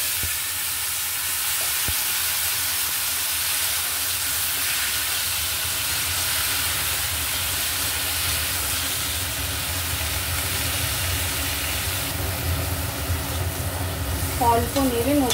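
Raw mango pieces frying in oil with crushed fennel, a steady hissing sizzle close up throughout, with brief stirring scrapes near the end.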